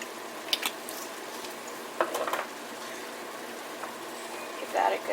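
A spoon stirs a sloppy joe mixture of ground meat seasoned with salt, pepper, garlic and onion powder in a pan. A few soft scraping bursts sound over a faint sizzle, and a voice can be heard.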